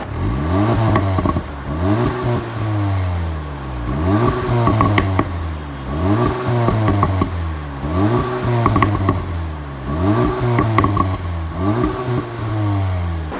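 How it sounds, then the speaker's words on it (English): Repeated revs from a 2021 CUPRA Ateca with quad exhaust, several rising engine blips in a steady rhythm, each climbing and falling back to idle, loud and close with no talking. "This is what the exhaust sounds like."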